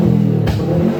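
Subaru Forester 4x4 automatic engine revving through its exhaust, a close, loud, steady drone with a sharp throttle blip midway, no talk.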